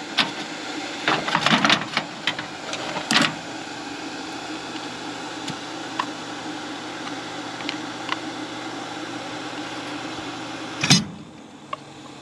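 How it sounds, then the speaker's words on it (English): Blower fan on an outdoor wood boiler running steadily, a constant whirring drone with a few scattered clicks and knocks nearby. "Kick the fan on."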